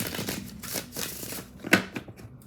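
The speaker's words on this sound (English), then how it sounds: "This is like a little commercial break as I shuffle these cards" Tarot cards being shuffled by hand, a soft, close, continuous riffling and sliding with a sharper snap partway through.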